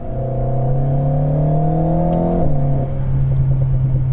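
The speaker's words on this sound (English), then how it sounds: "The smooth power delivery is accompanied by a nice and raunchy exhaust note" An Alpine A110 sports car accelerates, the engine's rising exhaust note climbing steadily before a gear change and a lower settled drone. The sound is loud, continuous and close, with no talking over it.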